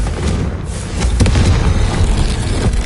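A Confringo spell explodes in Hogwarts Legacy, a loud, deep, sustained rumbling boom that swells after a brief lead-in and fills the whole moment without any talk.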